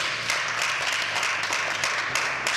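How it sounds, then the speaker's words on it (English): Audience applause at a panel talk on African cocoa value chains and trade, a steady wash of many hands clapping that fills the whole stretch at moderate level with no voices on top. "Let's please give her a round of applause."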